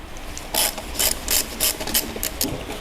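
Ratchet wrench loosening tight alternator bolts on an engine removed from a vehicle, a series of about seven sharp clicking ratchet strokes in an uneven rhythm, close up.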